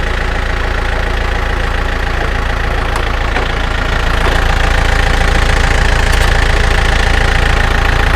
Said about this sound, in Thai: เดี๋ยวช่างแนทเปิดเครื่องเลยนะคะ